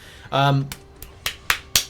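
Slap hits in the video game Marvel Contest of Champions: a short voiced sound, then five sharp, evenly spaced smacks landing about a quarter second apart, crisp and close.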